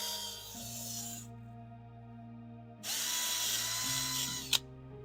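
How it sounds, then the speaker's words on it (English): A power drill fitted with a wire brush whirs and rasps against pump gasket surfaces in a garage, running in two bursts separated by a pause, close and steady, ending with a short sharp scrape. "I like to do that with a wire brush. On a drill"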